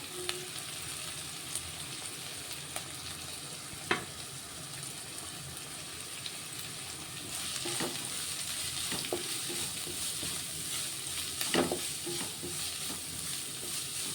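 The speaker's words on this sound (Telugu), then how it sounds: "ఇదంతా కొంచెం ఆయిల్లో ఫ్రై అవ్వాలి" Grated carrot, capsicum and green chillies fry in oil in a pan with a steady, close sizzle, while a spoon occasionally scrapes and stirs through the vegetables.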